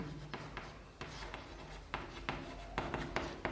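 Writing on a board during a geometry lesson, a series of soft scratching strokes and taps at an irregular rhythm, close and fairly quiet with no talk.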